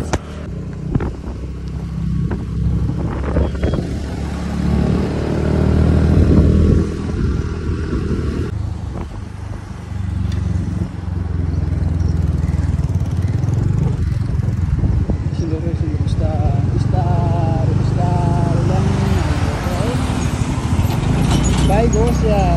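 A motorbike ridden over a rough road near Ghorahi in Dang, its engine a continuous close rumble that shifts with throttle over bumps, with people talking over it throughout.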